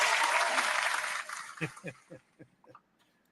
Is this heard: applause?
yes